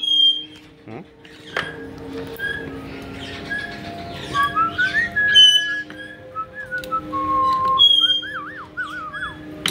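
A pet bird whistles indoors during a woodshop session, giving scattered clear tonal whistles, rising slides and warbling trills over low background hum and occasional clunks.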